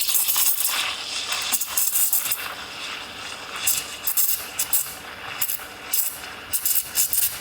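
Espresso machine steam wand aerating milk, a hissing, bubbling stream with rhythmic sputtering and ticking chirps as air is drawn in, fairly close and steady.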